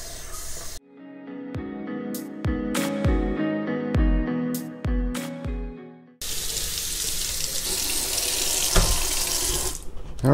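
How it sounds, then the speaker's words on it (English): Tap water runs into a container while a cleaning chemical is diluted, first with a few sharp knocks and clunks, then a steady loud rushing pour. "And I will fill the rest up with water."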